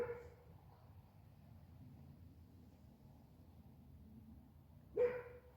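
Dogs bark faintly in the distance, a short yelp at the start and another sharp bark near the end, separated by a quiet, low background murmur.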